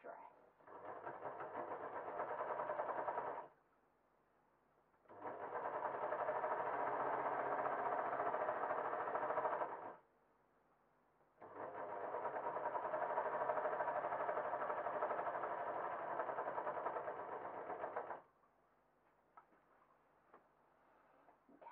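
A sewing machine stitching a seam in patterned stretch jersey cotton for a dress, three long, even runs of rapid mechanical whirring separated by short quiet pauses, close and moderately loud.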